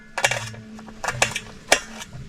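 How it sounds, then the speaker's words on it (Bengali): Green chillies, garlic and potatoes being finely chopped for grilled crab: a handful of sharp, bright knife knocks in quick irregular clusters, close and fairly loud with no voices. "সব কুচি কুচি করা হচ্ছে"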